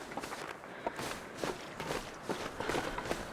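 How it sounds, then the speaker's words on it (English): Footsteps crunch through snow in the survival video game The Long Dark, a steady walking rhythm of soft, gritty steps, close by and moderately loud, with no talking. "I hear footsteps, but I think it's the deer."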